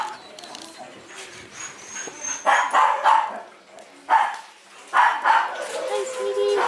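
Several dogs bark and yip in bursts at a dog care shelter, close and fairly loud, with people talking softly over and between the barks.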